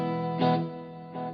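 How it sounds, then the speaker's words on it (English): Clean electric guitar verse tone with no distortion or modulation, only delay and a little reverb, playing sustained chords that bloom at two points and trail off in echoing decay, heard alone. "basically clean. There's no distortion or modulation effects. I've just got the delay and a bit of reverb"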